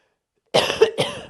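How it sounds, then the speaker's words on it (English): Two harsh coughs in quick succession, close and fairly loud, the first with a rough throaty catch, ending abruptly. "coughing."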